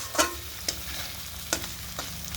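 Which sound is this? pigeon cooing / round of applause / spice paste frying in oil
spice paste frying in oil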